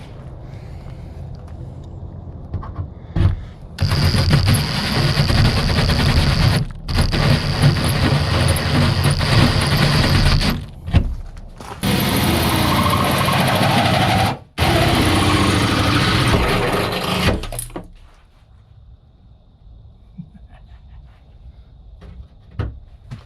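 A power drill bores a hole in a van's body, a loud, close, harsh whir running in several long bursts with short pauses, then stopping and leaving quiet.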